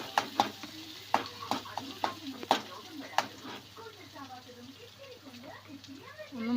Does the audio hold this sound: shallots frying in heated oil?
yes